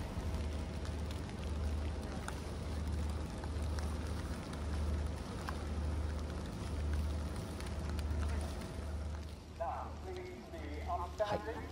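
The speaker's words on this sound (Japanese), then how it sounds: "雨が強くなってきました。" Rain falling at Suzuka circuit during a Formula 1 race, a steady dense patter close to the microphone throughout, with faint voices toward the end.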